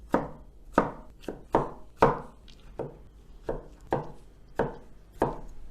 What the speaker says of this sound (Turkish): Domateslerimizi normal boyutlarda doğruyoruz.